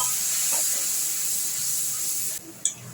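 A spice paste soaked in water fries in hot oil for a Bengali coconut chana dal, giving a steady close hiss of steam and sizzle that drops away sharply near the end, followed by one soft clink.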